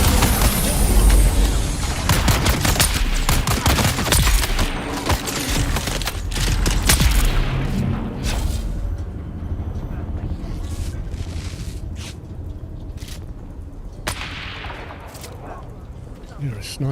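Sniper gunfire in the video game Dune: Awakening, heard as several sharp shots at irregular intervals among busy game noise, loudest in the first half and sparser afterward.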